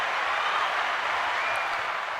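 A round of applause, a steady even hiss of many hands clapping together, moderately loud and unbroken, with no voices over it.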